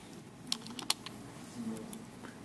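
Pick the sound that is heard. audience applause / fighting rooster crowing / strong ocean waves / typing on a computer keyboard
typing on a computer keyboard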